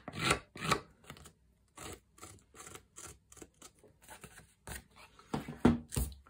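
Repeated short rasping cuts, sharp scissors roughing the edge of a foam sheet in quick irregular strokes, close up with brief pauses between snips.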